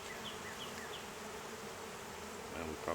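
A steady swarm of honey bees buzzes continuously, a dense droning hum close by, with faint rustling near the end.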